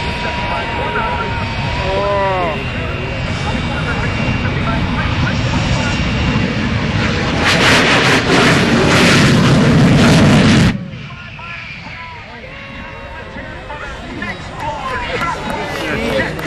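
The jet-powered Shock-Wave truck, rated at 36,000 horsepower, roars loudly on the runway at Peoria, building to a thunderous blast with crackling bursts before dropping off sharply, while voices can be heard over it.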